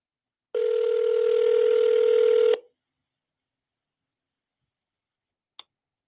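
A steady telephone dial tone sounds loud and alone for about two seconds as an outgoing call is placed from a live call-in show, followed after a silence by one faint, brief click.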